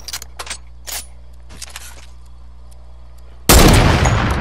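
A hunting rifle shot in the battle royale game Fortnite cracks out as a single very loud, sharp blast near the end, following a few faint distant pops and clicks.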